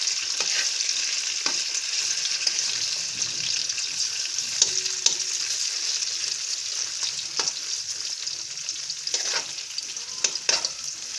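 Chicken pieces for Chicken Manchurian sizzle and fry steadily in a pan, a continuous bright crackle with occasional sharper pops and stirring clicks, close and loud with no talking.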